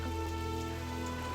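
Heavy rain pours down at night in a dense, steady hiss with a low constant rumble beneath it, continuous and close, with no voices.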